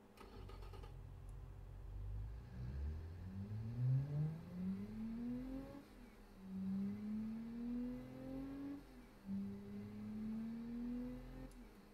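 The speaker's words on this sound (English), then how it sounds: "It's just a decent looking V6 engine. So let's have a look at what it sounds like." A V6 car engine in the Automation video game revs in several rising sweeps, each climbing in pitch and then dropping back, fairly quiet and with no talk over it.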